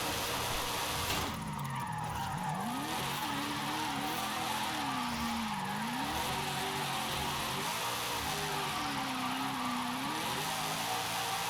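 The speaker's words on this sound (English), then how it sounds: "I'm like single lane drifting with it as well." A car drifts in Forza Horizon 5, its engine droning steadily while long wavering tyre squeals rise and fall continuously through the run, loud and without talk.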